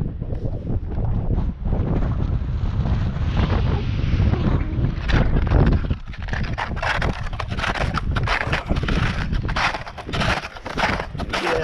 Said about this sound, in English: Yeah, this wind.